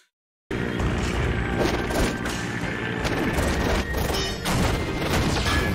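Bombs explode in an aerial bombardment in the animated series The Legend of Korra, a dense, loud wall of crashing booms and thuds that starts abruptly after a brief silence and rumbles on without pause.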